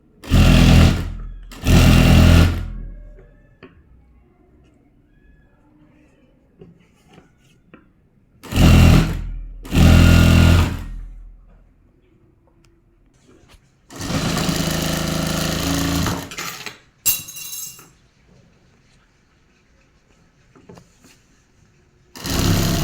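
A sewing machine stitches fabric for a bottom strip in separate bursts: two short runs, then two more, then a longer run of about two and a half seconds and a brief final burst. Each run is loud and close, with quiet gaps between.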